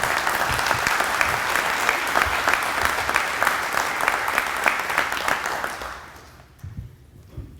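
Audience applause at a chamber of commerce business awards lunch, sustained clapping from a room of people that holds steady for about six seconds, then quickly fades out into near silence.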